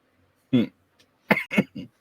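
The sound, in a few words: cough, like a smoker's cough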